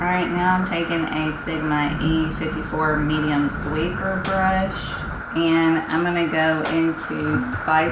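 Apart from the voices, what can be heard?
No distinct noise like a dog, phone or traffic.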